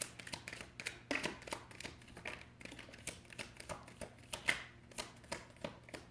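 Tarot cards are shuffled by hand up close, giving a quiet, rapid run of riffling flutters and soft slaps in an uneven rhythm.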